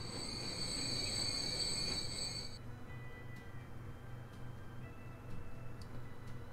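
Freight trains in the video game Transport Fever carrying iron ore and coal, a bright high wheel squeal for a couple of seconds giving way to rolling rumble and faint clicks and ticks.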